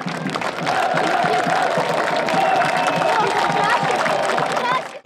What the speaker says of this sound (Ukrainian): Автора першого і такого очікуваного гола стадіон проведжає оплесками